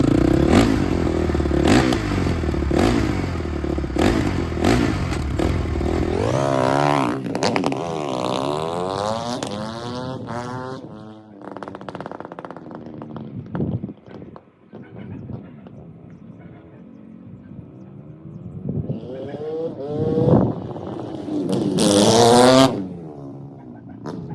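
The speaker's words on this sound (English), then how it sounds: "I'll take it up and down the street real quick and bring it back when it's warm" A Honda CRF450 dirt bike revs hard and accelerates down a street, its loud rising and falling engine note sweeping up and down through repeated throttle blips, sometimes close and sometimes fading.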